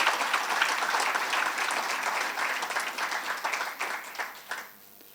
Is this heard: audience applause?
yes